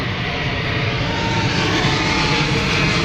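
Fixed-wing airplane passing overhead near a bridge, a steady loud broadband engine roar that holds constant and close throughout with no talk.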